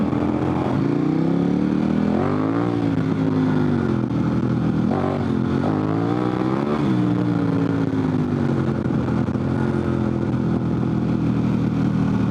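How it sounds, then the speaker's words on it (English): A dual-sport adventure motorcycle on Heidenau K60 Scout tires rides a rough road, its engine droning and rising and falling while the rear tire chatters as it loses traction, loud and continuous. "The chatter that we just got from there of his tire not being able to get traction"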